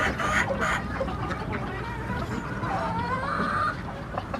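A rooster crows and clucks amid other chickens, with busy farmyard background noise throughout.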